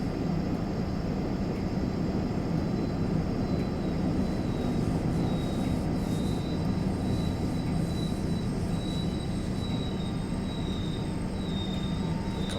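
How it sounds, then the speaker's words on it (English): A train in the Train Sim World 5 video game rumbles steadily at close range, with a faint high squeal of brakes running through most of the sound as it slows to a stop. "Bring the train to a stop now. Brakes to about 5"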